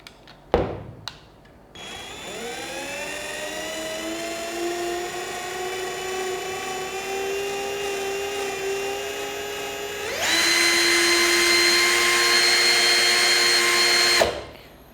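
An INGCO cordless drill runs at its low speed setting with a steady whine that rises as it spins up after a few clicks, then jumps to a louder, higher pitch near the end before cutting off. No talking.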